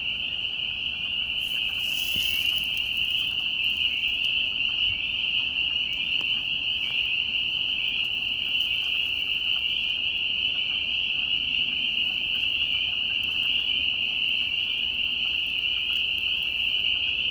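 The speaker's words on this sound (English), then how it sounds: "This is the frog rave at Turtle Island." Frogs call at night at Turtle Island in a dense, loud chorus. Their shrill trilling blends into one steady, unbroken drone that lasts the whole time, with no voices.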